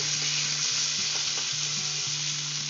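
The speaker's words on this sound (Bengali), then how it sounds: "এবারে এগুলো হালকা একটু নুন হলুদ দিয়ে ভেজে" Eggplant pieces seasoned with salt and turmeric fry in hot oil, a loud, continuous close sizzle with faint stirring, with no voices.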